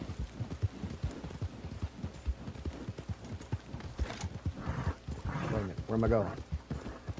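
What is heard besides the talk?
horse hooves in the video game Red Dead Online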